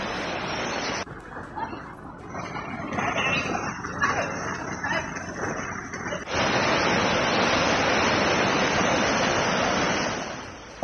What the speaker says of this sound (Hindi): हेयरफोर्डशायर में भीषण बाढ़, सड़क पर बहती हुई नजर आ रही नदी